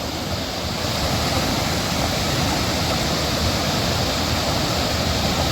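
A river swollen with snowmelt in the High Sierra rushes loudly and steadily, a dense, unbroken roar of churning water with no voices.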